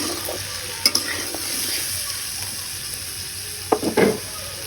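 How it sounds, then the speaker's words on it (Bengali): Onions and chicken fry in oil with bay leaf, cinnamon and cardamom, a steady close sizzle broken by a few sharp scrapes of stirring, one early and a cluster near the end, with no voices. "এই তো পেঁয়াজ আর মুরগির মাংসগুলো ভাজা হয়ে গেছে"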